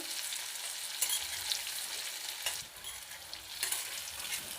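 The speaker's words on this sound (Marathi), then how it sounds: "दोन ते तीन मिनटात हे कारले आपण तेलात चांगले असे फ्राय करून घेतलेले आहेत" Stuffed bitter gourds frying in oil, a dense steady hiss and crackle heard close, with a few soft bumps as pieces shift in the pan and no speech.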